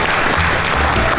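Audience applause fills a fundraiser evening for a county health and wellness foundation, a loud, dense burst of many hands clapping close by with no talk over it.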